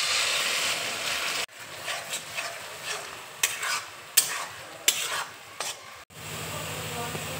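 Carrot paste stirred in melted ghee in a wok: a continuous scraping, rubbing stir with a soft sizzle, broken by several sharp spatula knocks on the metal, close and fairly loud.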